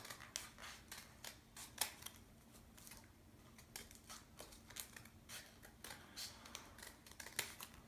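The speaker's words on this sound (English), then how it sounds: "So now I'll cut some shapes out of the edges." Scissors snip through folded paper to cut snowflake shapes: quiet, close, irregular crisp snips spaced a fraction of a second apart, with no talking.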